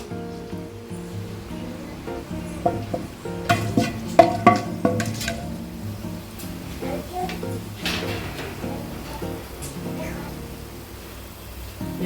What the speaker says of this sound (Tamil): எண்ணெய் காயிட்டு பட்டை இதெல்லாம் போட்டுக்கலாம்